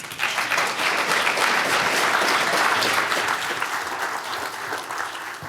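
An audience applauds steadily throughout, a dense wash of many hands clapping at a talk as speaker Sherif Girgis is welcomed to the stage, loud and sustained before easing slightly toward the end.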